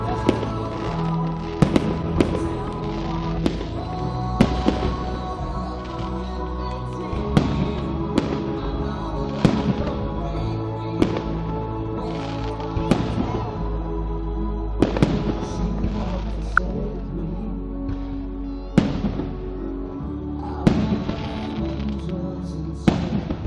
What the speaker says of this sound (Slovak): No, 5-minútový ohňostroj,